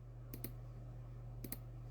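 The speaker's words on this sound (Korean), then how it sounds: "마우스 소리 나면 안 돼요" Two quick pairs of sharp mouse clicks, close and quiet, separated by a pause over a steady low hum.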